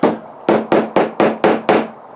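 A small hammer drives a nail with seven sharp, loud, evenly spaced strikes, each ringing briefly before the next, close up with no talking.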